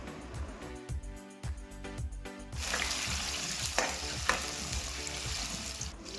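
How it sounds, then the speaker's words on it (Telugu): Onions and green chillies fry in oil with mustard seeds and cumin for Punjabi-style rajma masala. Stirring clatters come first, then a loud, steady close sizzle takes over and continues to the end without speech. "మిర్చి, ఆనియన్స్ మంచిగా ఫ్రై అయ్యేదాకా ఉంచాలి."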